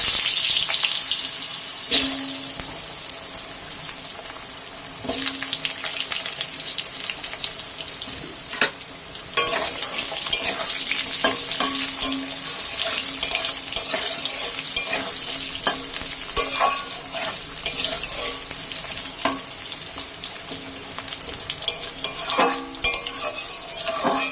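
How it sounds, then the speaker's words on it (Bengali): Steady close-up sizzling of cut potatoes frying in hot oil, with repeated scraping and stirring sounds from a utensil throughout. "এখন আমি যে আলু কেটে রেখেছিলাম আলুগুলো দিয়ে দিলাম"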